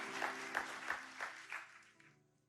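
Congregation at a youth church service clapping with a rhythmic, evenly spaced beat, about six loud claps in a row that fade out, with no talking.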